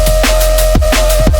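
The drop of an electronic music track plays back loudly, with punchy kick hits about every half second over a sustained tone and a deep bass bed.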